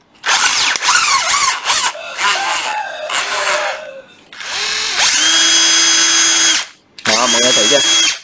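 Bosch cordless drill revving in short bursts, whirring loud and close in several separate pulls of the trigger, including one long steady run, with someone talking in between.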